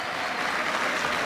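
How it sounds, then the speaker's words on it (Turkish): Dense, steady audience applause fills the hall at a Turkish freestyle wrestling championship as a retiring wrestler bids farewell, a continuous wash of many hands with no voices. "Alkışlar"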